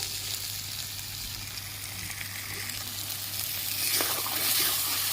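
Spiced dhoka, fried lentil cake pieces, sizzles steadily in hot oil in a pan, a dense continuous crackle close up with no talking.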